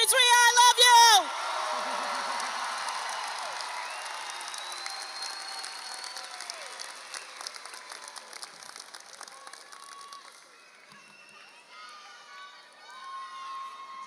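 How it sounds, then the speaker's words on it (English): A graduation ceremony crowd for Louis E. Dieruff's Class of 2023 bursts into loud applause, whoops and cheers that start strongly and then gradually fade to scattered clapping and a few distant shouts. "Let's give her another round of applause."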